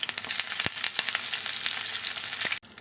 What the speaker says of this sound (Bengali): বেগুনগুলো হালকা করে ভেজে নিয়েছি